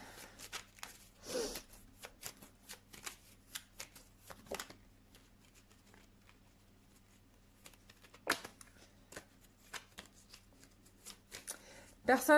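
Tarot cards shuffled by hand for a reading, giving soft, irregular riffling bursts and taps across the clip, fairly quiet and close, with a few louder flurries near the start, middle and end.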